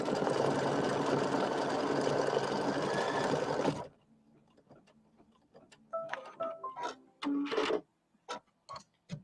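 An embroidery machine stitches a placement line on a quilt block, a dense steady whirring hum for several seconds, then stops, followed by quieter clicks and short bursts of handling noise.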